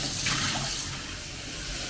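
Water runs steadily into a pot as the base for sorrel (hibiscus) juice, a continuous splashing pour with a brighter surge near the start.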